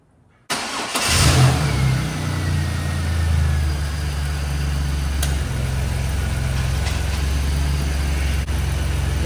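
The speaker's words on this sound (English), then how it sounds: "I'm going to go ahead and fire the car up." A 2000 Chevrolet Camaro engine cranks and catches after a brief silence, flaring in revs before settling into a steady, close idle that runs on with a low hum.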